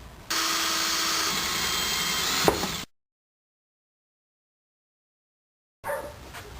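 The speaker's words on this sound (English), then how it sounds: "So you're going to have to try and drill these holes as vertical as you can" Power drill boring holes into a PVC bucksaw handle, a steady close whine lasting a few seconds, then a long silence before a brief burst of drilling resumes.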